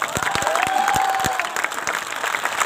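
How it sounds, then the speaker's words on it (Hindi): An audience at a poetry recital (mushaira) at Karachi University in Pakistan breaks into steady, dense applause that carries through, with a faint voice briefly audible over the clapping. "तालियां"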